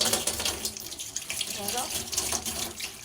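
Running tap water splashes continuously over wheat flour dough being rinsed by hand, close and fairly loud, with faint voices beneath.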